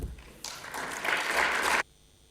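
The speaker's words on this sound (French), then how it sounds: "Et je vous propose de l'applaudir." Audience applause greeting a scientific presenter at an Asian hornet talk, rising from a few claps into a full burst that builds, then stops abruptly into a quiet room.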